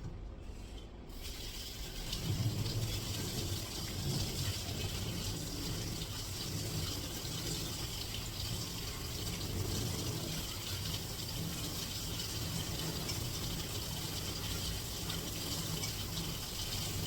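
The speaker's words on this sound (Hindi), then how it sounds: "इस पे ठंडा पानी चला देंगे" Cold water runs steadily from a kitchen tap, a close, continuous splashing gush that carries on without pause, with no talking over it.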